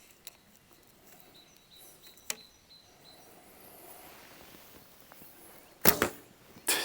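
An arrow loosed from an El Dorado ambidextrous reflex-reflex bow, 48 pounds at 28 inches, gives a sharp release snap and then distant thuds near the end, amid quiet outdoor ambience.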